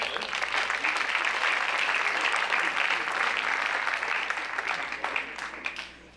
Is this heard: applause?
yes